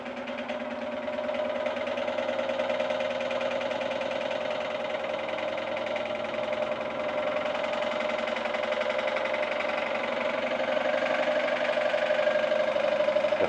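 A large two-cylinder combination steam engine running fast under load, with a steady, continuous mechanical chugging hum throughout, loud and close with no pauses.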